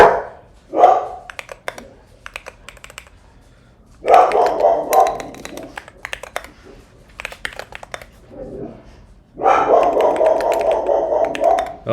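Dogs bark close by in loud, repeated bursts of several barks each, separated by stretches of quiet filled with clacking computer-keyboard typing.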